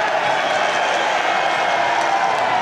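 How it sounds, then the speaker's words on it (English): Rugby stadium crowd at an Auckland versus Waikato provincial match roars in a steady, dense wall of cheering and clapping that holds evenly throughout, distant and broad. "And the crowd delighted that that move came to an end"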